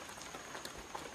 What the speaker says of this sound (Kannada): ಆಗಲೇ ಮಳೆ ಬೇರೆ ಸ್ಟಾರ್ಟ್ ಆಗಿಬಿಟ್ಟಿದೆ